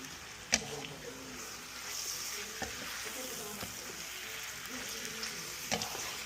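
Pork sizzles in a hot pan with onions for pancit, a steady broad frying hiss broken by a few sharp clacks of stirring against the pan.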